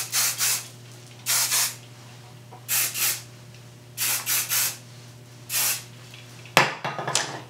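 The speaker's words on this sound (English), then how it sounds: "So I'm just going to take my volume spray again." Several short hissing bursts of volume hair spray are aimed at freshly curled hair, some single and some in quick pairs, each loud and close, with a brief clatter near the end.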